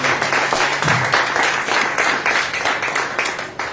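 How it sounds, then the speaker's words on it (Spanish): A church congregation claps after a Spanish-language sermon, rhythmic clapping rising and falling in regular pulses, fairly loud and close, with a brief low murmur near the start. "Aplaudo a Cristo."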